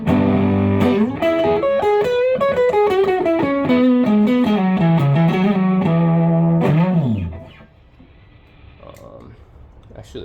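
Electric guitar through an overdrive pedal with level and drive turned up, a loud sustained run of melodic notes bending downward before fading out, followed by faint talk.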